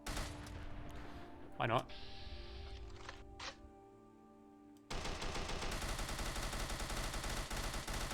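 Modded AK and AR-15 rifles fire in the Fallout 4 video game, with dense automatic bursts amid game ambience and a brief spoken remark, ending in a sustained loud stretch of rapid gunfire.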